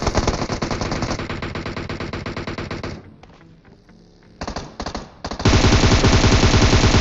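Sustained automatic gunfire in PUBG from a freshly picked-up weapon: rapid loud bursts for three seconds, a short lull with scattered shots, then an even louder continuous burst to the end.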